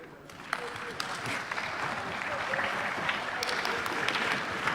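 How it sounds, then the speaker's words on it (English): Members of the Malawi parliament clapping hands in the chamber, a steady wash of applause with scattered sharper claps and faint voices mixed underneath. "ask the Honourable House to clap hands for the Honourable Minister of Finance"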